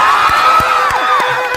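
A festival crowd at a temple Brahmotsavam in Arvapalli shouting and cheering loudly, a sustained roar of voices with children's shrieks rising above it, close and dense.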